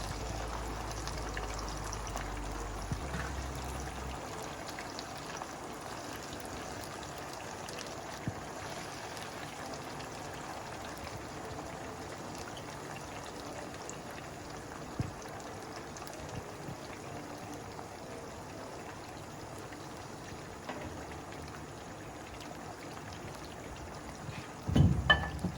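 Chicken pieces frying in hot oil give a steady, moderate bubbling sizzle that runs throughout, with a low rumble at the start and a louder clatter right at the end.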